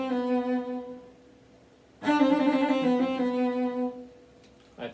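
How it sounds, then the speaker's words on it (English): Haydn piano trill starting on the upper note and closing with a turn, heard as a rapid alternating figure with ringing tones that briefly quiets and then resumes more brightly, played alone. "The trill that starts from the upper note has a turn and then concludes."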